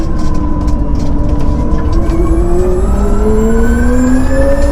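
A Hyundai RN22e electric race car on a race track, its electric motor whine sweeping steadily upward in pitch as it accelerates, loud and continuous with road and wind rush underneath.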